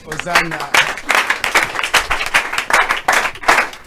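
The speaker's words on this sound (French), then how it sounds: "Acclamons trop fort pour l'Éternel" Church congregation clapping in loud rhythmic bursts, many hands beating together in a steady pulse, with singing or voices mixed in underneath.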